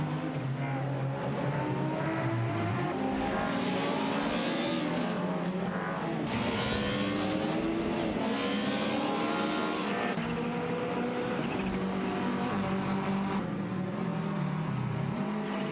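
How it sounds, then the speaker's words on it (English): AI-controlled race cars in a racing simulator game roar along the track, engines continuously droning and shifting pitch as cars rise and fall in revs, with no commentary over them. "We're watching AI-controlled racing cars in a simulator battle it out on the track."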